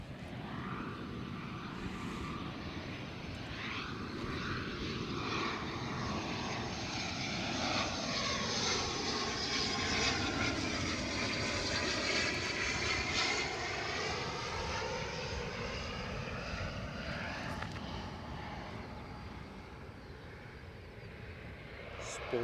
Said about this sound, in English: Second ATR of the show.